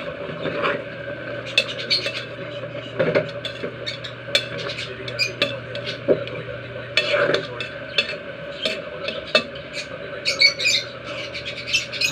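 Ginataang tulingan, tuna simmered in coconut milk, being stirred in a pot: a steady run of scraping and clinking strokes against the pot, close and moderately loud, with faint chirping birds in the background.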